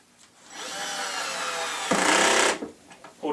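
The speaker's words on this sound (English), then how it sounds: "it's got what's called a ratchet. Hear it ratcheting, and it won't strip out your screws." A power drill runs in bursts while driving screws into cabinet parts, its whirring motor rising in pitch before a louder ratcheting clutch chatter takes over, close and with no talk.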